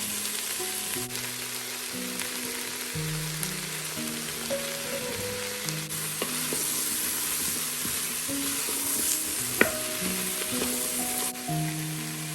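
Chopped mushrooms sizzle steadily in a hot pan, a close, continuous frying crackle with occasional small pops, and no voices.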